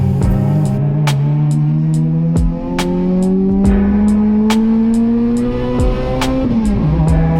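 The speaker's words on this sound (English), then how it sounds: "the car does not sound good shifting from 3rd to 5th" A loud race car engine revs steadily and pitches up and down between gear changes, skipping from 3rd to 5th with fourth gear missing, with brief dips in the drone, close and continuous, at Toronto Motorsports Park Cayuga.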